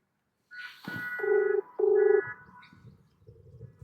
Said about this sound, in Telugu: ఇప్పుడు కూడా చేస్తున్నా అదే స్వామి ఫోన్ లిఫ్ట్ చేస్తలేడు